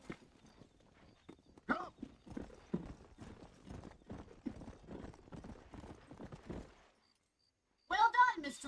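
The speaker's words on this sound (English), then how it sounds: "These are fine horses." Horses in the Red Dead Redemption video game clop along in a steady, close rhythm of hooves, with a sharp whinny at the end; voices speak over the hoofbeats.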